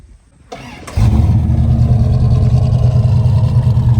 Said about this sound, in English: Okay, let's hear this CUDA run.